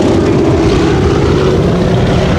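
A PT-17 Cadet biplane flying at an air show, a loud continuous propeller engine drone that holds steady throughout, with no voices.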